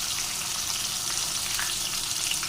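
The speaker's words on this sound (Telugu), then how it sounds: "మిగతా ముక్కలన్నిటినీ ఇదే ప్రాసెస్లో ఫ్రై చేసుకోవాలి" Fish pieces fry in hot oil with a dense, even crackling sizzle that stays steady and close throughout, with no voices.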